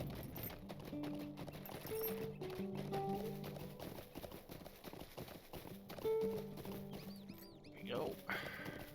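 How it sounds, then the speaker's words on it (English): Horse hooves in Lord of the Rings Online clop in a quick steady rhythm, moderately close, with game music and effects mixed in behind a talking voice. "Get on the old horse."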